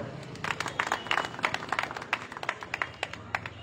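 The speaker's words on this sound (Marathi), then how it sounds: "विनोददादासाठी टाळ्या होऊ द्या" Scattered applause for Vinod Dada Shinde at a political gathering, a modest crowd clapping unevenly with sharp individual claps, moderately distant and fairly quiet.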